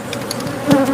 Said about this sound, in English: Tombstone, Arizona bees.